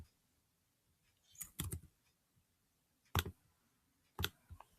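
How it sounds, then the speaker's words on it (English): Sparse, faint clicks and taps on a computer keyboard in a quiet room, with a short cluster of keystrokes followed by two isolated sharp clicks spaced about a second apart. "I'm trying to type it."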